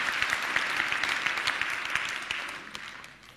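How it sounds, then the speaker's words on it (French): A room full of people at a startup contest final applauds steadily, a dense, even wash of clapping that holds for a few seconds and then begins to fade, with no voices on top. "je pense qu'on peut les applaudir tous les deux"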